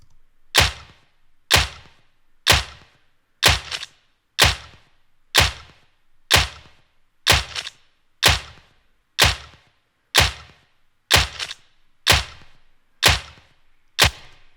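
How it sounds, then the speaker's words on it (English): Layered clap hits repeat at a steady, even pace, each sharp crack trailing into a short, splashy decay. "So let's play these all together layered. So this is all the claps."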